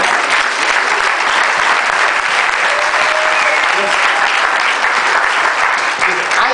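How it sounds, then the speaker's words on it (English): A church congregation claps hands together in sustained, dense applause that stays loud and steady throughout, with a few voices mixed into the crowd. "Get a Lord a hand clap."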